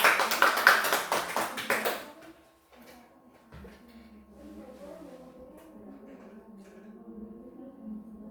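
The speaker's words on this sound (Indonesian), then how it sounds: "kita berikan tepuk tangan untuk kita yang sudah bisa menjawab hari ini" A short burst of rapid clapping from a small group, fading after about two seconds into quiet room sounds.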